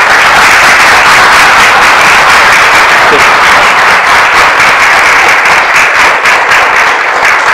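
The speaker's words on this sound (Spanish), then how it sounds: "si por favor me ayudan con un aplauso para darle la bienvenida" Welcoming applause at a museum lecture on exhibiting the Dead Sea Scrolls, loud, dense clapping from a large crowd that stays strong throughout.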